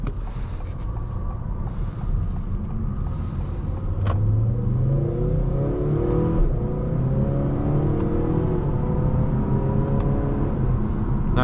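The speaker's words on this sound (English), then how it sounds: "Nice acceleration, very smooth." A 2025 Acura TLX A-Spec SH-AWD with a 10-speed automatic accelerates smoothly, its engine note rising through several gear changes, heard from inside the cabin as a steady moderate drone with road rumble.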